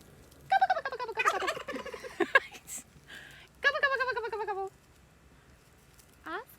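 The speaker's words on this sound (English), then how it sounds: "He keeps gobbling at me." A turkey named Oscar, a shaggy-looking bird on a homestead, gobbles close by in several loud bursts separated by short pauses, with a brief final call at the end.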